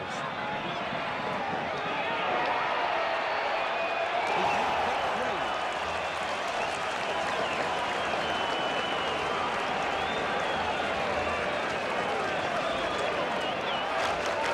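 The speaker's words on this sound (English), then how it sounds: "Moorabbin crowd really cheering St Kilda on." A Moorabbin crowd at a 1980 St Kilda versus Essendon Australian football match roars continuously in a broad, sustained wash of cheering, with a commentator talking over it.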